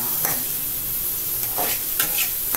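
Chopped onions sauté in hot oil with a steady sizzle, while a utensil scrapes and stirs through them in a few brisk strokes. No one speaks.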